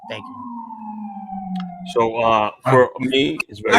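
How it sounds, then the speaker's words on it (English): An ambulance siren outside a podcast recording sounds as a steady, sustained wailing tone for about two seconds, then fades under close conversational speech. "I think that's the ambulance."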